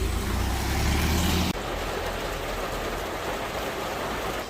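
Steady rain falls across a parking area in Shimla in the hill-state rain, a loud continuous hiss, with a heavier rumble of a vehicle engine in the first second and a half.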